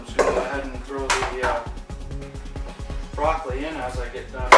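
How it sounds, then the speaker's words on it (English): Broccoli being chopped with a knife on a cutting board for a raw salad: quick, steady knife strikes in a close, even rhythm, heard under a person talking throughout. "broccoli in as I get done chopping it up"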